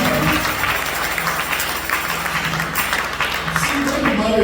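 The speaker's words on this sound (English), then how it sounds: "When I clap for this man." A church congregation at a prophetic service applauds for a man, a continuous crowd of clapping hands at moderate loudness with a voice talking over it.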